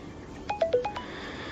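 A Vodafone call rings on a mobile phone as a short melodic ringtone of about five quick notes, heard outdoors on a cold fishing trip against a low ambient hiss.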